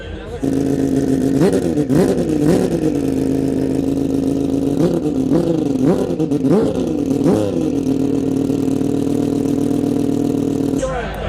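A rotary-engine car revs hard and steadily toward 9,000 rpm, with repeated sharp throttle blips rising and falling over a loud, continuous droning idle.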